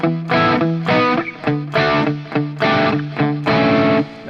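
A song intro played slowly on a distorted electric guitar, with loud, close chord stabs in a steady rhythm of about eight hits and brief gaps between chord changes.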